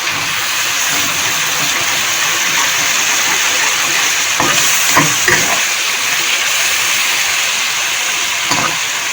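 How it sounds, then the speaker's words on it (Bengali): Tomato puree fries with a loud, steady hiss in a hot pan, with a few soft scrapes and clicks of stirring partway through. "এবার টমেটো পিউরিটা দিয়ে দিলাম, দিয়ে একটু নেড়ে দিলাম।"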